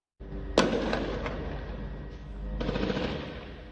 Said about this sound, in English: Gunfire rings out in the street near Gaza's biggest hospital.